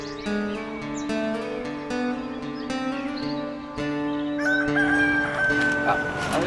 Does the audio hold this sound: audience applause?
no